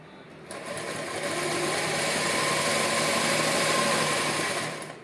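Sewing machine running a straight seam on a ladies' chudidar, a close, steady high-pitched whirring hum that starts abruptly and runs for several seconds before trailing off.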